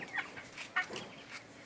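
Several farm chickens cluck softly in short, scattered calls, quiet and at a middle distance, with no one talking.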